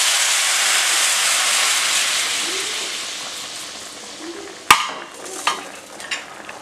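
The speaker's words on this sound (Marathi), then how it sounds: "आता आपल्याला ही फोडणी यात घालायची आहे" Hot tempering with asafoetida is poured into a thin Goan-style onion-tomato vegetable curry, giving a loud, broad steaming hiss that slowly fades, followed by a few sharp clinks of a utensil against the pot.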